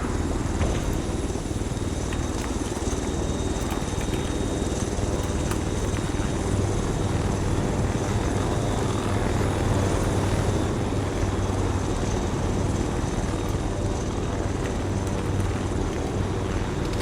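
An Arma 3 helicopter flies close by with a steady, loud rotor and turbine drone that holds without a break for the whole stretch. The thick low thump sits under a constant high whine.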